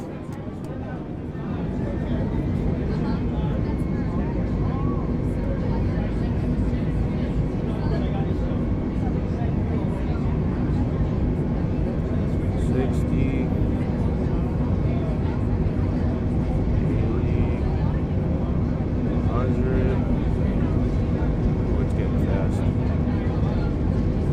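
Airliner engines roar steadily during takeoff in a flight simulator game, a continuous broadband rumble that holds at a constant level throughout while someone talks over it.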